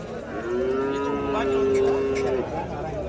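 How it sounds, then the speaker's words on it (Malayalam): A calf lets out one long, clear moo at a busy cattle market, with faint crowd noise underneath. "ഒരു മൂന്നാല് പശുക്കിടാങ്ങളുണ്ട്"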